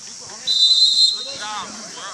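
A coach's whistle at a Galesburg football practice gives one sharp, shrill blast of about half a second, followed by a voice and field noise.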